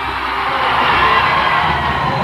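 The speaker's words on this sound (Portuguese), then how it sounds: "Muito aplauso aqui na Apoteose." A big carnival parade crowd cheers, shouts and whoops at the Apoteose in the Rio sambadrome, a dense continuous roar of many voices that stays loud and even throughout.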